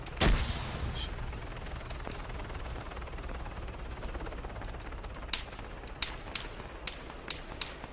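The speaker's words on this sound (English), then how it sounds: "Friendly's taken fire, possibly from the tower that's near us." Gunfire in the military game Arma 3, with one loud close shot at the start followed by a steady rumbling battlefield bed and a series of sharp cracking shots spaced irregularly toward the end.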